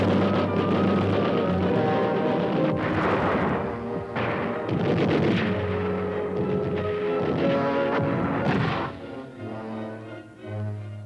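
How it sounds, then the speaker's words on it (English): Machine gun and mortar fire in a Vietnam-era battle as US Marines go into action, sounding as a sustained rumble of distant bursts and thuds with sharper impacts, fairly steady throughout before easing near the end. "goes into action immediately with machine gun and mortar fire"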